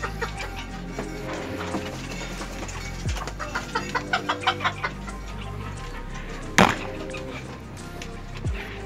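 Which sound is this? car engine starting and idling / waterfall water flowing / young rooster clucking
young rooster clucking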